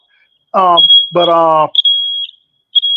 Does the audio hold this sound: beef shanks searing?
no